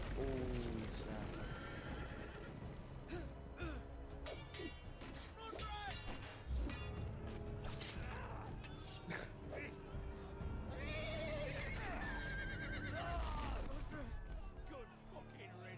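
A horse whinnies repeatedly over hoofbeats and background music in a Game of Thrones video game, with several high, wavering neighs spread through the clip.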